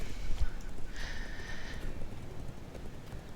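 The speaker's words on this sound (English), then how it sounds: "actually you can just double click the horse as well" Horse hooves clip-clopping in the online game Legends of Aria, a light, rhythmic trot with a brief tonal game chime partway through, no talking over it.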